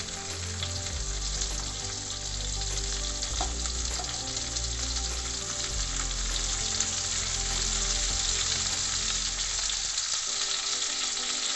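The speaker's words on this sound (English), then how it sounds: "First we will cook the cauliflower." Loud, continuous sizzling and frying from cauliflower cooking in a hot pan, steady throughout with faint stirring, no talking.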